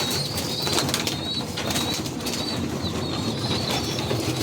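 Pigeons in a newly built loft make a busy, continuous racket of wing flaps and scattered calls, close and steady throughout with no talking.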